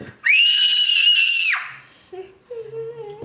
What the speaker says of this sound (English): Can you show us how you screamed when you didn't get what you wanted?